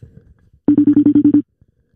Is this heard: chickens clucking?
no